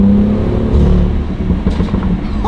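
BMW M2 F87 with an aftermarket intake, engine revving loudly and close, a strong low throbbing drone with quick rises in pitch, heard alone.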